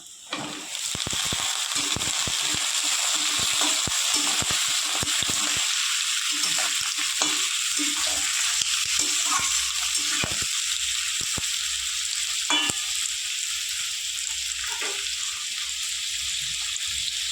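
Cut potatoes drop into hot oil in a pan, setting off a loud, sustained frying hiss with a burst of crackling clatter at first, then steady sizzling with occasional scrapes, no speech.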